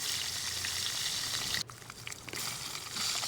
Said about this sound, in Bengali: চুলোয় একটা প্যান বসিয়ে পরিমাণ মতো তেল দিয়ে পুঁটি মাছ ভেজে নেব